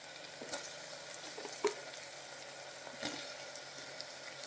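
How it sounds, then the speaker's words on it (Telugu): Tomatoes sizzle softly in a pan as drumstick pieces are added, giving faint frying hiss with a few brief clatters and thumps from pieces dropping in and being stirred. "ఇలా 5 మినిట్స్ టమాటాలు ఫ్రై అయిన తర్వాత ఇప్పుడు దీనిలోకి ములక్కాయలు యాడ్ చేద్దాం."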